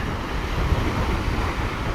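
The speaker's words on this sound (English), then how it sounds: "it has some fairly strong waves coming in" Fairly strong waves roll in on a huge bay of Lake Michigan, making a continuous rushing wash mixed with steady wind buffeting, with no voices.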